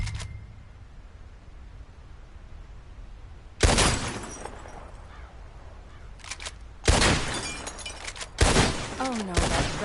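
Gunfire in Red Dead Redemption 2, several sharp loud shots spaced apart over a quiet background, each blast followed by a brief decaying tail, with faint game voices in between.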